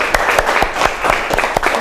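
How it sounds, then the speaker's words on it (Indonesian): A small classroom group claps for a student team, with a short burst of distinct, uneven hand claps close by. "Silahkan untuk tepuk tangan"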